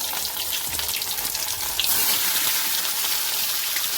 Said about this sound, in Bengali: পেছনটা আগে আমি তেলে ভালো করে ভেজে নিচ্ছি